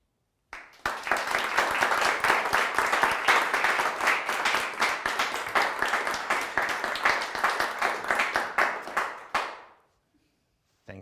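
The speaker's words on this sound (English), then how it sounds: "Thank you for that vigorous applause." Vigorous audience applause after a talk at a Christian summer gathering, a dense, steady burst of many hands clapping for about nine seconds before cutting off, with no talking over it.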